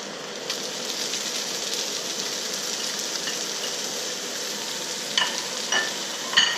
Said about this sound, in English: Then you put this vegetable into it.